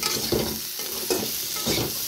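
Chicken legs frying in a pan, a steady broadband sizzle with periodic scraping stir strokes recurring about every half second to second, close and fairly loud with no voices.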